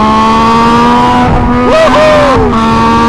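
A Yamaha MT-09 motorcycle with a straight exhaust pipe, riding mode A, accelerates close by, its engine note climbing and falling through gear changes in a loud, steady roar.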